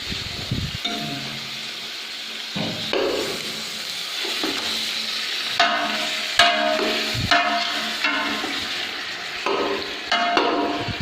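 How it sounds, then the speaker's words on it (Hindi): 2.5 kg of chicken frying in oil in a pot for chicken korma gives a steady, close sizzle, broken by repeated scraping stirs and clanks of the spoon against the pan throughout. "ये हम अब इसे हल्का हल्का फ्राई कर रहे हैं।"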